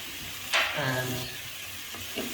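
Chicken tikka biryani ingredients with green chilies and lemon slices are stirred in a pot, giving a short scrape and rustle over a soft, steady sizzle.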